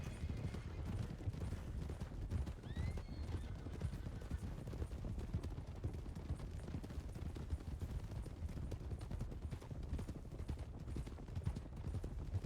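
Horse cantering in a video game, a quick steady run of rhythmic hoof clip-clops, faint and continuous under low background game ambience.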